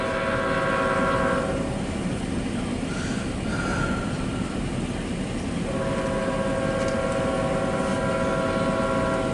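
A CSX Q136 intermodal freight train rolls past loud and close, with a continuous heavy rumble of wheels and cars and high metallic squeals that fade midway and then return.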